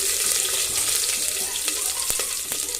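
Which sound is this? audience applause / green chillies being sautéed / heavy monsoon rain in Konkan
green chillies being sautéed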